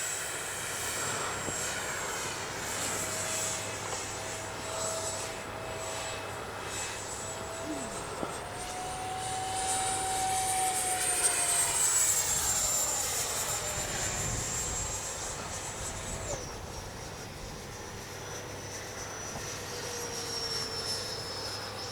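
A Freewing T-33 80mm electric ducted-fan RC jet flies past outdoors, its steady whining turbine-like hiss rising in pitch and swelling as it passes near, then fading, continuous with no talk.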